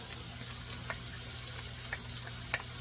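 Green peppers and garlic sauteing in a pan, a soft, even sizzle with occasional light crackles and pops, heard close but at low volume with no talk.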